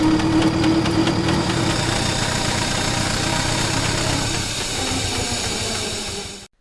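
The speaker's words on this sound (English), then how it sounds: "15 of them were scaled-down model-size engines like Greg Burrows' G&J Burrows Foden steam truck" A scaled-down model Foden steam truck engine runs close by, giving off a steady hiss and rhythmic mechanical chuffing that holds for several seconds before cutting off abruptly.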